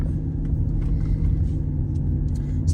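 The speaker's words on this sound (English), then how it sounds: "So the car's driving real nice," Mercedes-Benz W221 S600 with a V12 cruising on the road, a loud, steady low engine and tyre rumble heard from inside the car with no talking.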